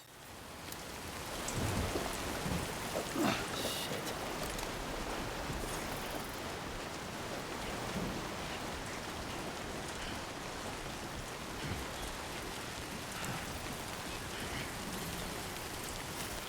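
Steady heavy timefall rain from the video game Death Stranding 2 pours down in a continuous hiss over the full stretch, with faint thunder-like rumbles underneath and no voices.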